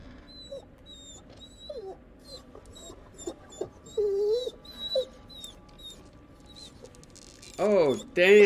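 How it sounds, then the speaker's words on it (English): A dog whimpers and whines in a horror video game, several high, wavering cries scattered over a quiet, low ambient game background, with a louder burst of whining near the end. "That sounds like a very hungry dog."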